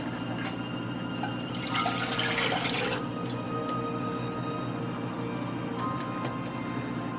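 Water pours steadily into a container for about a second, a brief splashing rush over a constant low hum, then only the hum remains, while making homemade orgeat almond syrup.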